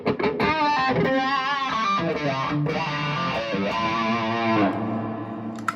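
An overdriven electric guitar played through a Crybaby wah pedal plays a sustained lead line with sweeping, vocal-like wah tone shifts, loud and close.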